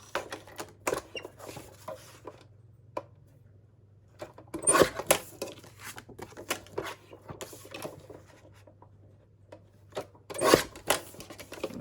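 Scissors snipping through card stock in a craft session, a scattering of short, crisp cuts in quick irregular bursts, close by, over a steady low hum.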